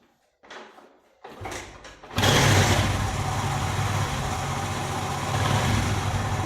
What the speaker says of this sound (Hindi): अभी बाइक को मैं स्टार्ट करता हूँ फिर आपको दिखाता हूँ।